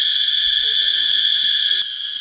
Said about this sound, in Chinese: 有没有听到震耳欲聋的蝉鸣声？